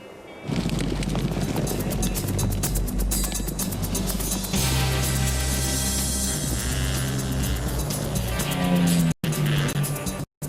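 Dirt bikes ride across the wide open plains of New Mexico, engines revving and droning loudly and close, with shifting pitch as they race past and wind buffeting the microphone.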